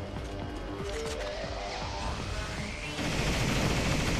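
Gunfire rattles in Vanquish during a highway battle: a steady, rapid stream of shots in a dense, loud mix that swells louder near the end.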